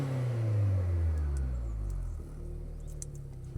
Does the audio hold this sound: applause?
no